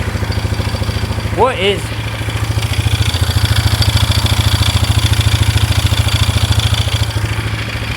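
A 2001 Polaris Scrambler 500 2x4 ATV engine catches and settles into a steady, loud, rapid idle with rhythmic clatter close by; a voice speaks briefly as it starts.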